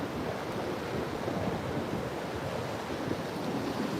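Ocean surf rolls steadily onto a coastline as the tide comes in, a continuous broad wash of waves mixed with wind buffeting the microphone, with no voices over it.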